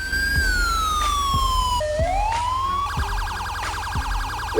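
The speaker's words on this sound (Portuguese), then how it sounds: "o mod Modern Siren Pack, que traz os sons da sirene de praticamente todas as viaturas para uma versão mais realista" A police car siren from GTA 5 fitted with the Modern Siren Pack mod wails loudly and steadily, shifting from a slow sweeping tone to a rapid yelp over a constant engine rumble.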